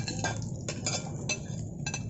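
Garlic and onion being sautéed in a flavor-loaded pan, with a soft steady sizzle underneath and repeated clinks and scrapes of a utensil stirring against the pan.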